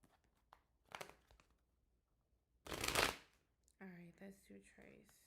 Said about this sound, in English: I hate new cards because they hurt to shuffle.